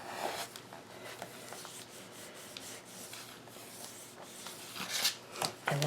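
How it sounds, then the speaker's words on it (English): A bone folder burnishes paper down onto a magazine journal page, making soft, quiet rubbing strokes in an irregular rhythm, close up with no speech. "you want to burnish it down"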